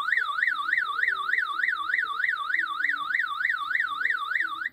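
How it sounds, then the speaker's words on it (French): Van alarm set off by opening the sliding door: a loud, continuous electronic siren sweeping up and down in a fast, steady warble, close by and without speech, then cutting off abruptly at the end. "l'alarme s'est déclenchée quasiment instantanément"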